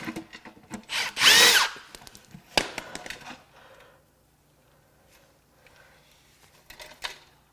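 An electric power tool spins off bolts on a BMW N63 twin-turbo V8 during a teardown, giving a loud high whine of about a second, then shorter bursts and metallic clanks that fade into quieter rattling.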